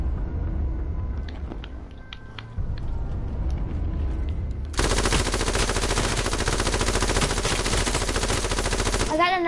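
A light machine gun firing in a video game, heard as a long, loud, continuous burst of rapid shots that starts after a few seconds of quieter game sounds and isolated clicks.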